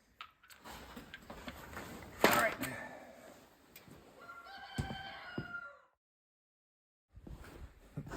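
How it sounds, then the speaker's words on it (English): A rooster crows once in the background during a tire change on a GMC Yukon, a drawn-out call rising over low clatter and a nearby voice, then a brief silence. "Sorry for the rooster out there"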